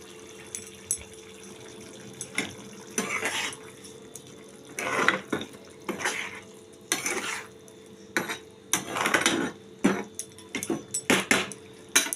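Spoon clatters and scrapes in a pan of paneer, broccoli and pea curry as ghee is stirred in, in irregular bursts of metallic clinks and scraping, fairly close, with a soft steady hum underneath and no talking.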